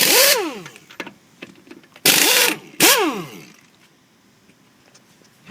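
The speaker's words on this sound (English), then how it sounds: "I can start taking my lug nuts off" Lug nuts come off a 2007 Ford F250 rear wheel in three loud bursts of an impact wrench, each a sharp whirring rattle that spins down, separated by quiet gaps with light clinks of the nuts.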